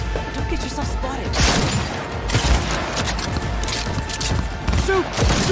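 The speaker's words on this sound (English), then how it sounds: "Shoot! Shoot! Shoot! I'm shooting!" Dense gunfire and explosive booms in a Cyberpunk 2077 firefight, loud and continuous throughout, with excited voices shouting over the shooting.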